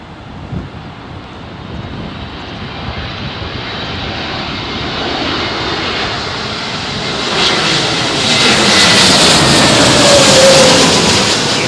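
A Lufthansa jet comes in to land at Heathrow in a crosswind, its engine roar broad and loud, swelling steadily as it passes close overhead with no talk.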